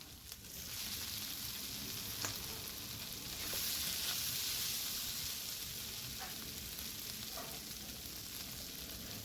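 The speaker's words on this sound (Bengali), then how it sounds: "ঢাকনা খুলে আবারও নাড়াচাড়া করে নেব।" Banana flower (mocha) ghonto sizzles steadily in a pan as it is stirred, a continuous close frying hiss with a few soft spoon scrapes and no talking.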